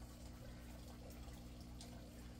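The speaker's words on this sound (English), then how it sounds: "the sound of running water." Steady running water trickling through an aquaponics system at night, a continuous soft wash of flow that stays low and even with no voices.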